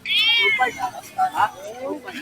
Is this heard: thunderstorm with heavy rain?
no